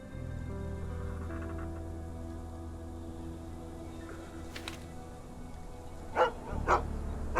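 Dogs bark in a rough 19th-century settlement in a Sherlock Holmes video game, a few bursts near the end over a steady low ambient drone and rain-like patter.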